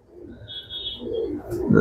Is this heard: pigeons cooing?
yes